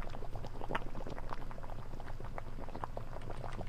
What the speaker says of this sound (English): Pot is boiling.